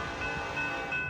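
An SD70ACE diesel locomotive leading a freight train through McCord Park sounds its horn in a steady, sustained blast with a rumbling rail-traffic bed underneath, heard at moderate distance with no one talking.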